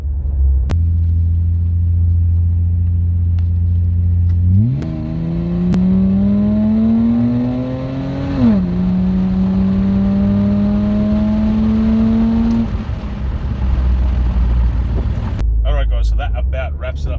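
A Ford Territory with a Barra engine, Pacemaker 4495 headers and a 100-cell cat idles with a deep rumble, then climbs into a rising rev and holds a steady raised drone before dropping back to idle, loud and close.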